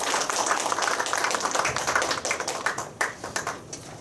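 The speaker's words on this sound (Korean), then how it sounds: "뜨거운 박수 부탁드립니다." An audience at a lecture for a small-business curator training course claps to welcome the speaker, a dense burst of applause that thins into scattered claps near the end.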